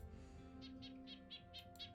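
A nuthatch calls in the Wingspan: Oceania video game, a quick run of six short bright chirps over soft background music.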